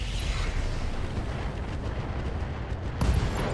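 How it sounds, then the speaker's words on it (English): An LRM ammo explosion in the BattleTech game RogueTech rumbles as a sustained, muffled blast with crackling bursts, followed by a sharper boom near the end. "LRM ammo explosion"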